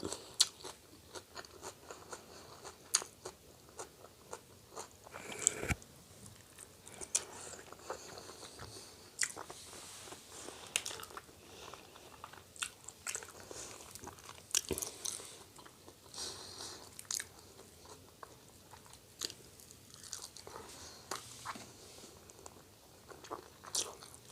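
Someone eating spicy Thai fish larb, with soft close-up crunching, biting and chewing sounds repeating irregularly throughout, quiet with no speech.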